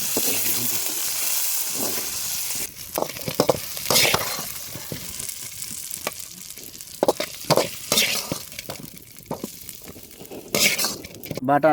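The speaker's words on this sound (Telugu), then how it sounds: "బాగా వంకాయని నూనెలో వేయించుకొని పక్కన పెట్టుకుందాం" Brinjal pieces frying in hot oil for a vankaya batani curry, with a steady sizzle broken by stirring scrapes and occasional clinks of a utensil against the pan, close and continuous.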